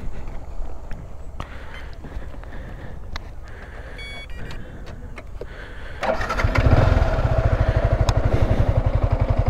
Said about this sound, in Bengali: বাইকটা স্টার্ট করছি